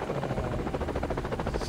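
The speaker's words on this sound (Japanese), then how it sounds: "ヘリコプターに乗ってローレンス湾の遊園地まで行ってみたいと思います。" Helicopter flying over an open world in the video game LifeAfter, a steady whirring rotor chop with rapid rhythmic pulses, continuous and fairly loud, with no talk.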